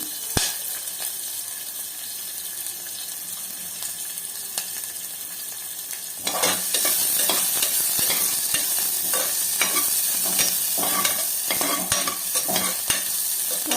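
Chopped onions frying in a spoonful of oil for mutton curry, a steady close sizzle that grows louder midway, with scattered clicks and scrapes of a spoon against the pan.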